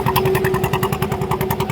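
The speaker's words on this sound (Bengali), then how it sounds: "এই যে একটা ট্রলার," A motorized trawler boat engine chugs on a river, a rapid, even low-pitched putter with a steady tonal hum, close and fairly loud for a short moment.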